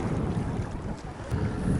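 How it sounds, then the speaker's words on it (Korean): Strong wind buffets the microphone in a continuous low roar at Dangampo harbor in Taean, South Korea, during shore lure fishing, with a faint wash of seawater in the background. "오늘 소리는 바람 소리 위주로 듣겠습니다"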